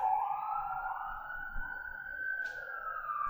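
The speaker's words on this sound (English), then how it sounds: "That sounds like a fire truck that is going to put out a fire" A fire truck siren wails in a steady, sustained tone as it passes, fairly loud and continuous, with faint traffic rumble underneath and no talking.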